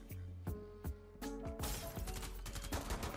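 Rapid gunfire bursts from the video game Rainbow Six Siege, several sharp shots and a quick fusillade in a close, dense mix with game music.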